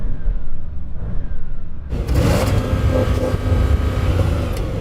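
An Audi RS exhaust idles with a low rumble, then the engine is revved hard and held against a soft limiter, producing a loud, sustained, slightly fluttering roar up close.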